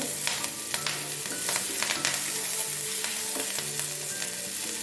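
Chopped green chili fries in a pan for oats vegetable upma, giving a steady, close sizzle with crackling pops and light stirring throughout, with no talk.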